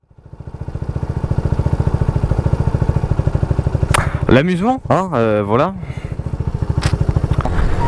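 A motorcycle engine chugs with a steady, rapid, loud pulse close by, lacking a sixth gear; someone talks briefly over the running engine midway.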